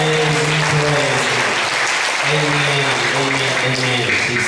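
A church congregation claps together in worship, a dense, continuous roar of hand claps filling the room, with voices and music audible beneath it.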